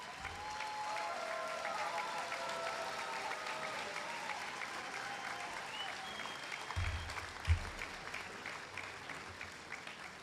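A large crowd at a university commencement ceremony applauds steadily, a dense wash of clapping heard from a distance, with a couple of brief thumps near the end.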